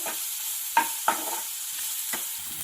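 Garam masala frying in a pan, a thin, steady sizzle broken by a few sharp scraping strokes of a spoon stirring, fairly quiet and with no voices.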